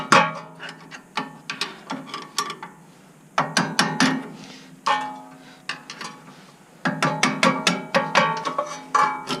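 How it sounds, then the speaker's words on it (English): Sharp metallic taps of a hammer on a flat blade screwdriver, knocking out a small silver brake line clip on a Toyota Tundra front brake, struck in quick irregular bursts with short pauses between. "Put your flat blade screwdriver behind it and just tap it out."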